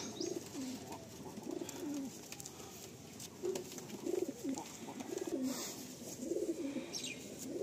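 Pigeons coo repeatedly inside a loft, soft rolling calls overlapping at a steady rhythm against a faint background hiss.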